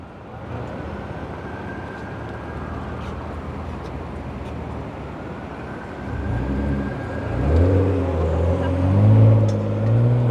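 Busy car traffic streams along 11th Avenue in Manhattan with a steady roar of passing vehicles, swelling louder as heavier vehicles rumble close by toward the end.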